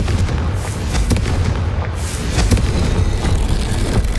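Fiery Confringo spell explosions in the Hogwarts Legacy video game, dense booming blasts and crackling bursts piling up continuously, loud and close, with no speech.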